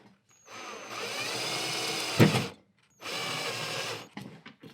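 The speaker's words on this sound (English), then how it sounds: "So we found a bit of a nicer drill bit, so we should have no issue with this one." A power drill whirs steadily through the plastic of an aftermarket part in two bursts, with a sharp crunch between them and small clicks at the end.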